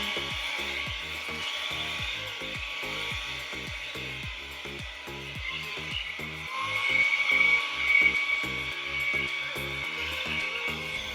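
A hair dryer blows with a steady high whirr, close up, while its comb attachment drags rhythmically through 4c hair beneath it.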